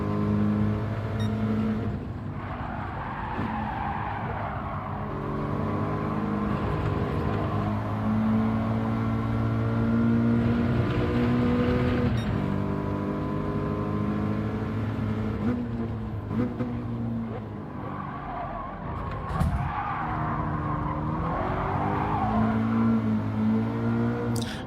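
A Toyota 86 and a Subaru BRZ race at Tsukuba in Gran Turismo 7, with engines droning and rising and falling through revs and gear changes, loud and continuous with no speech.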